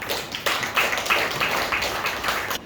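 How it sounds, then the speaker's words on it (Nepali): A congregation at a Saturday church service claps to welcome a preacher, producing steady, rhythmic applause with regular sharp beats over about three seconds and no talking. "हामी यो वचनको लागि राजकुमार दाईलाई ताली बजाएर स्वागत गर्छौँ"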